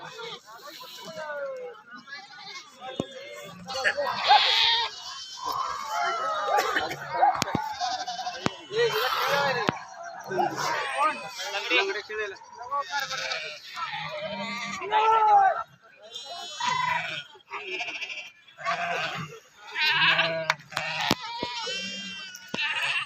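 Sheep bleat repeatedly, loud and close, among a resting flock in a pilgrimage herd camp, with people talking and calling in between the calls.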